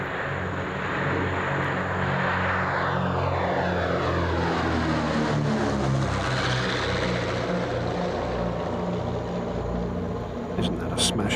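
A twin-propeller airliner with two-blade fixed-pitch propellers, an ex-Jersey Airlines aircraft, drones past at an airshow, its engine hum rising and shifting pitch as it passes, steady and fairly loud throughout.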